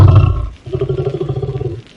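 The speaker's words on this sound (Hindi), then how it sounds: "बाहर से एक भयंकर दहाड़ गूंजी" Cartoon lion roar, one deep, heavy blast followed by a rumbling, pulsing growl that trails off, loud and close with no other sounds.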